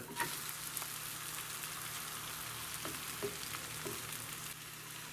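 Korean street-style egg toast with a cabbage-vegetable mixture sizzles and crackles in a pan, a faint steady frying hiss with a few soft scrapes and taps as it is flipped.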